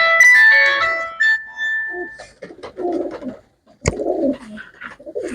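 A blue female pigeon coos softly in low, rolling bursts after a brief high whistle-like tone, with a sharp click midway; close and fairly quiet.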